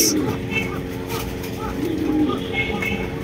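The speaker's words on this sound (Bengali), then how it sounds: "এখানে রয়েছে একজোড়া প্রোমানিয়াম পটার কবুতর" A pair of black Pomeranian pouter pigeons coo softly in low, repeated murmurs, close by, with a faint background hum and some chatter around them.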